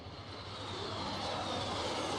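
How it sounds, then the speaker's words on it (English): Engines of a PB-4Y Navy patrol bomber drone loudly overhead at an airshow, a broad continuous roar that swells slightly as the aircraft passes, with no voices. "There is the PB-4Y, the second airplane behind the twin-engine bomber."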